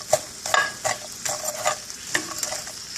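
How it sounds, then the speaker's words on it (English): Frozen okra sizzling in a skillet while being stirred, loud close crackle with repeated rhythmic scraping strokes every half second or so, no voices. "I just added the okra to the skillet, and it's frozen still, so I'm just stirring it up"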